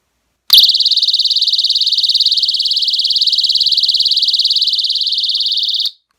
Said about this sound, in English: it would pull the pin on this little grenade and set off this alarm